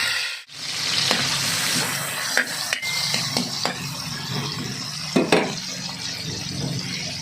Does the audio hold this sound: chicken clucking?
no